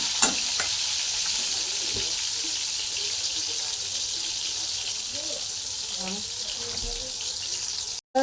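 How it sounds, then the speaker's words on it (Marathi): Tomatoes frying in a pan with a steady, broad sizzle that holds evenly throughout, with a few faint stirring scrapes and clinks near the end. "टमाटे चांगले तळून घ्यायचे लाल जरत लाल जायचं"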